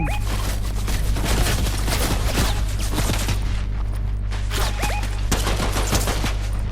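Rapid gunfire in the video game Fortnite, with dense sustained bursts of shots crackling close and loud over a steady low engine-like hum, and short pauses between volleys.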